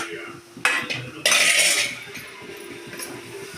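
A utensil scrapes and clinks against a pan while goat blood curry is stirred and dried out, with a few bursts of loud scraping over a quiet background.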